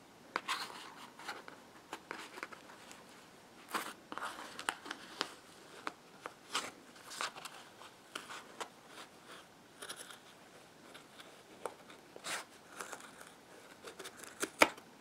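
Scissors snip through 12-inch lengths of string for a handmade Christmas tree angel decoration, giving a series of quiet, close, irregular clicks and cuts with small crinkling handling noises between them and no talking.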